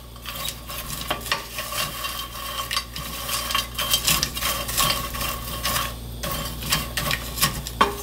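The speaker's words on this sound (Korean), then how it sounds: "지금 아주 약한 불에서 지금 천천히 볶고 있거든요" Dried radish strips are stir-roasted slowly in a pan over very low heat, giving a steady close scraping and rustling with a faint sizzle. Soft clinks of the utensil against the pan recur in an uneven rhythm.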